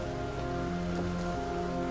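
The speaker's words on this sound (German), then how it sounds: "Wie kriege ich denn den Regen aus?" Rain in the video game Portal Revolution hisses as a steady, dense patter. Tonal game sounds hum beneath it, and there is no speech.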